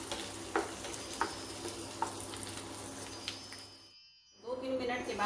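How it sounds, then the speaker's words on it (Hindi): Capsicum and onion frying in a pan for paneer bhurji, giving a steady soft sizzle with occasional stirring scrapes, then a brief drop to near silence before the frying noise returns louder. "अब थोड़ी सी शिमला मिर्च को मुझे हल्के से इसको भी इसमें भूनना है प्याज के साथ"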